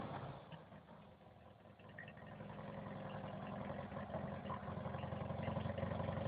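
A small Polski Fiat 126p engine with a burnt-through exhaust idles steadily with a low, throbbing rumble that slowly grows a little louder, with no voices present.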